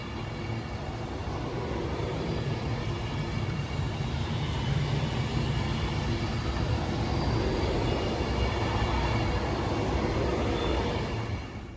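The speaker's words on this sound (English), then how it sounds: "we're going to have another Avanti West Coast Penderloader coming down" An Avanti West Coast Pendolino train rushes past in Northampton, a loud sustained roar of rail noise that holds steady and then eases off at the end.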